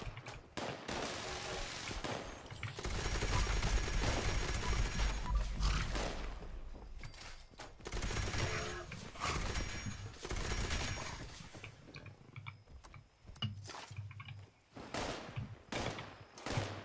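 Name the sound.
gunfire from a weapon in the video game Fallout 76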